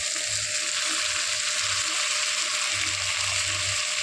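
Prawns sizzle in a hot pan with cooked capsicum for prawns chilli, a steady, close, loud frying hiss that runs unbroken with a low bubbling underneath and no talking.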